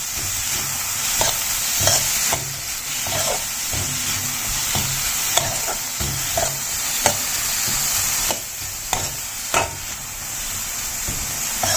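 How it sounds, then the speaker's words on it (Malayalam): Sliced onions sauté in a hot pan for bread kothu, a steady frying sizzle with repeated scraping stirs and clicks of a spatula throughout, close and fairly loud, with no voices. "സവാള ഇട്ടിട്ട് കുറച്ച് നേരം ഒന്ന് വഴറ്റി കൊടുക്കാം."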